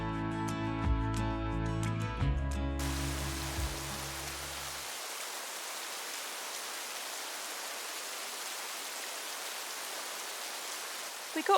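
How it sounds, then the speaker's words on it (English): Steady rain pattering on the roof of a motorhome, heard from inside as a continuous soft hiss; music plays at the start before fading, leaving the rain alone and even. "listen to the rain pattering on the roof"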